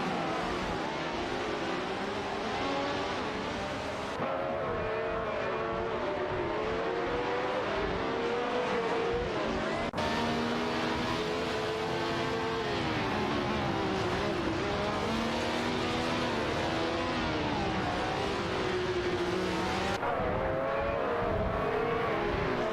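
Race cars in an AI-driven racing video game roar continuously, engine whine rising and falling with gear changes and overlapping passes, loud and constant throughout.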